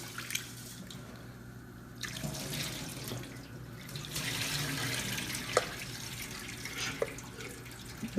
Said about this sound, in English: Ok, lavamos nuestro arroz nuevamente.